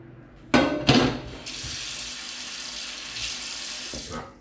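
Tap water runs steadily into a kitchen sink as a non-stick frying pan is set in it, with a couple of clunks of the pan near the start and the splashing stream continuing alone until it stops.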